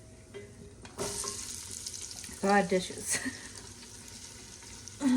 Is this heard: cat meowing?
no